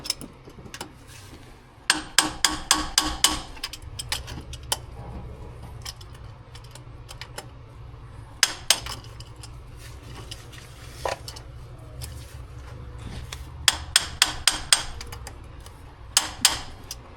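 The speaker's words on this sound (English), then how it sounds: "I just needed to hit it harder with a hammer" A hammer strikes the tappet cover of a Toyota FJ60 engine in quick bursts of sharp metallic knocks, several clusters of rapid blows separated by short pauses, close and clear.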